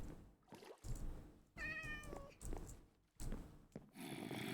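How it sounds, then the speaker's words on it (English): A cat meows in Minecraft, a single clear tonal meow near the middle, set among dense game noise and other bursts of sound. "Hi, kitty cat."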